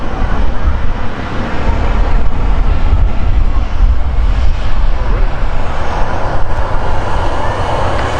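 An Easyjet Airbus A319-100 departing Manchester Airport, a loud continuous jet engine roar that dominates throughout, heard from the airport's visitor park.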